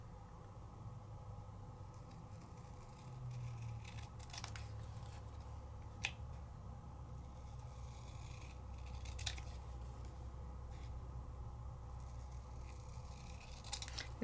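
Scissors trimming cardstock freehand, a few faint sharp snips scattered over a quiet steady room hum.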